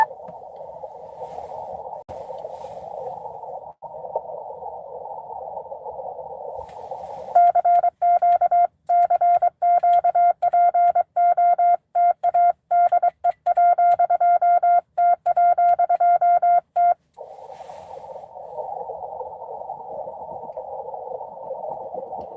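Morse code CW tones on an amateur radio set during a Parks on the Air activation, a clear, steady keyed beep in rapid on-off bursts that sits between stretches of band noise.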